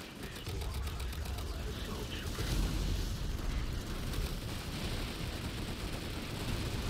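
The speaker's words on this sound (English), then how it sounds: "That was one hell of a grenade throw." A grenade blast rumbles through a Planetside 2 battle, its low, heavy boom rolling beneath continuous battlefield noise and distant firing, fairly quiet overall with faint voices in the mix.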